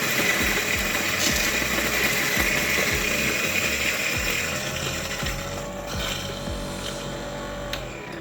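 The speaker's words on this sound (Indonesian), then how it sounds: "biasakan grinder itu nyala terlebih dahulu ya, baru kita giling" An N600 coffee grinder running and grinding coffee beans, a loud steady mechanical whir with rhythmic ratcheting clicks repeating about twice a second, easing slightly toward the end.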